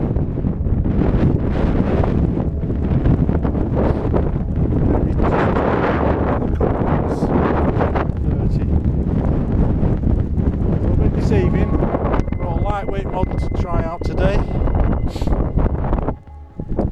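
Strong wind of about 25 mph roars across the microphone in a sustained, gusty rush near a moored boat, with someone talking over it for much of the time.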